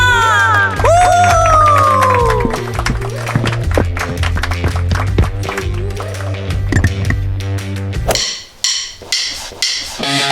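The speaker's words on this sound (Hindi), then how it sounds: "प्लीज तालियां" A school crowd claps and cheers to welcome a champion rock band, with whooping voices and scattered sharp claps over a steady low hum, ending in a brief burst of louder noise.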